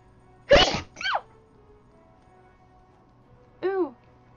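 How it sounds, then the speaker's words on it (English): A single sharp sneeze bursts out close to the mic, followed by a couple of short vocal exclamations, with quiet background otherwise. "I have to sneeze."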